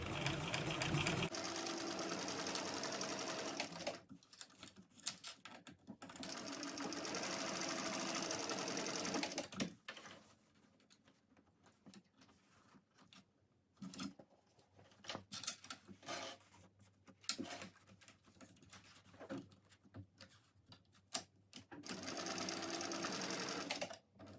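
A sewing machine stitches and backstitches a seam on a crossbody bag: two long, steady runs bracket a stretch of short stop-start bursts, all close and loud.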